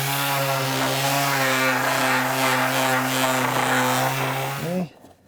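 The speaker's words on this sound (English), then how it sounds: "I'm just gonna sand off the saw curves and anything else that I see." A power sander smoothing saw marks off pine door trim, a loud steady motor drone that runs without a break for nearly five seconds, then winds down and cuts off.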